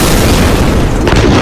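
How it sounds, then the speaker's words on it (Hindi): A massive explosion in Beirut, Lebanon roars as a continuous, very loud, broadband rumble that fills the whole stretch, with a brief surge of brighter crackle near the end and no voices. "जहां एक बड़ा विस्फोट होता है और आसपास का इलाका तिनके की तरह बिखरने लगता है।"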